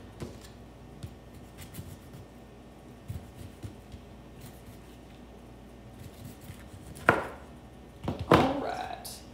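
Knife chopping vegetables on a cutting board while preparing a soba noodle bowl, soft close taps in a loose rhythm, faint and intermittent, under a quiet voice, ending with a couple of louder knocks.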